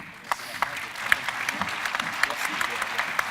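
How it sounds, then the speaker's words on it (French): Applause from an audience at a construction-industry general assembly round table, steady and moderately loud, with sharp claps standing out through a dense patter and talk over it. "Merci, on peut les applaudir."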